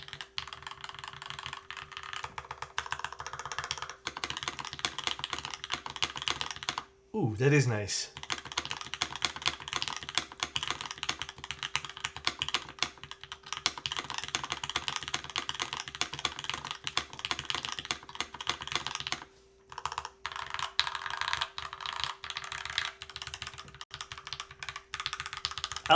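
A deep custom mechanical keyboard typed on steadily and up close, a continuous stream of clacky keystrokes with brief gaps, while someone briefly speaks partway through.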